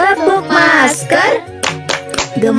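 Children chant a mask-wearing clapping rhyme together in Indonesian in a sing-song rhythm, with a few sharp hand claps landing between their voices near the end.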